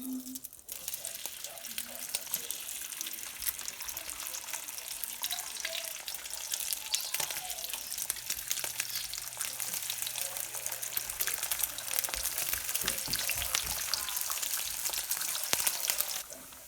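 Meat sizzles and chars steadily on a hot pan or griddle for Philly cheese steaks, a continuous crackling hiss with scattered pops that stays fairly loud throughout, with faint voices in the background.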